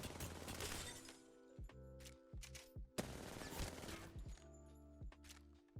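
Rapid bursts of R99 submachine gun fire in Apex Legends, loud and close, in several short volleys separated by brief pauses, with sharp cracking impacts.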